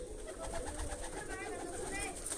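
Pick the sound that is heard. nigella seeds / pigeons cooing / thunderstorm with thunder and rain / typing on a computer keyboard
pigeons cooing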